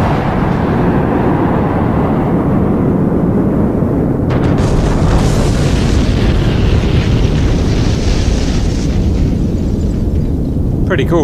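Aircraft bombs strike buildings in the DCS World flight simulator, producing loud, rumbling explosions that roll on in a heavy continuous blast with sharper bursts partway through.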